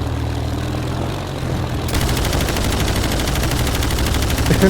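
Propeller-driven Japanese fighter plane in a World War II flight combat video game, its droning engine steady throughout, joined midway by sustained loud rattling machine-gun fire.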